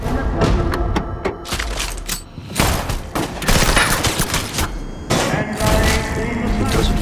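Gunfire in an action scene from the film Wrath of Man, rapid volleys of sharp shots and thuds in several loud bursts, with voices briefly mixed in.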